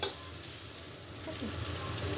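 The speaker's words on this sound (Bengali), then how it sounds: "আমি এটা অনেকক্ষণ ধরে একটু ভাজবো" A soft, steady sizzle of chow mein frying in a pan, fairly quiet, with faint stirring sounds and no talking.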